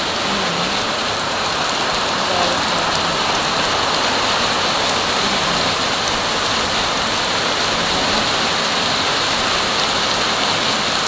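Heavy typhoon rain pours down while floodwater flows into a creek. A loud, unbroken roar of rain and rushing water fills the whole stretch, with no voices.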